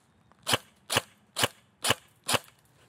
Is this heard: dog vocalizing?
no